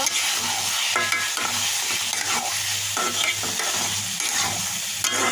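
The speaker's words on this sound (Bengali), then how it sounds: "এবার একটু ভাজা জিরের গুঁড়া দিয়ে মিশিয়ে নামিয়ে নেব" Papaya mash being stirred with roasted cumin powder in a pan, a steady scraping stir over a continuous close sizzle with a low hum underneath, no voices.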